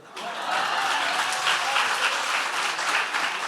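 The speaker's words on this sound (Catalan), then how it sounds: "Per què aplaudeixen?" Audience applause, a dense steady wash of clapping that swells quickly and holds at a moderate level, with no talking.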